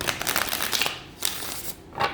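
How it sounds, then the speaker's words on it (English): A deck of tarot cards is shuffled by hand, giving a close, crisp run of riffling, flapping bursts with brief pauses between them. "let me shuffle these a couple of times"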